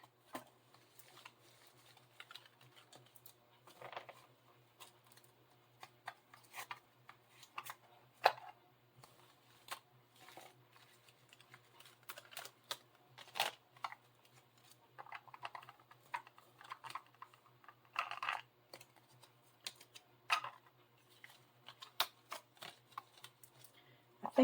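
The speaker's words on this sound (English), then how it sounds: "Let's get our box over here and get our cards back in it." Paper cash-stuffing challenge cards gathered and slipped back into a box, giving soft scattered taps, shuffles and riffles at close range, quiet and irregular throughout with no talking.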